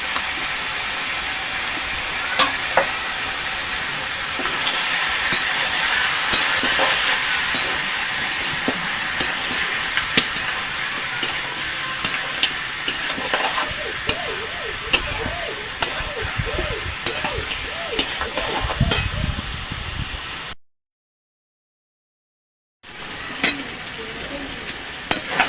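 Chicken sautéing and being stirred with turmeric and salt in a pan: a continuous sizzling hiss broken by scraping and clacking strokes of the stirring spoon, with a brief silent gap near the end.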